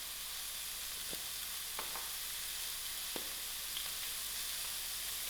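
Liver frying in a pan on lowered heat gives a steady, quiet sizzle with a few soft clicks and pops over the constant hiss.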